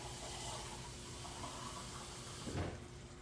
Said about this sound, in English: I'm just going to pour the water in there